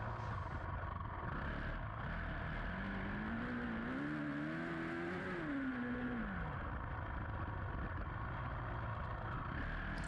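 A 450 dirt bike engine revving during a hare scramble race, a steady droning motor with one rising and falling rev swell in the middle, continuous and moderately loud with wind-like noise throughout.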